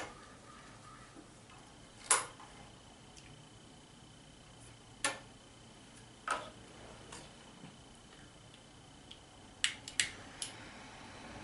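Cigar being cut, a few sharp isolated snips spaced several seconds apart with a close double snip near the end, in a quiet room with no talking.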